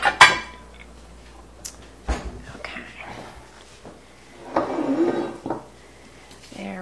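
Metal pot being fetched and handled in a home kitchen while cooking garlic shrimp with basil, a few knocks and clanks scattered among quiet rustling, with faint speech in the background.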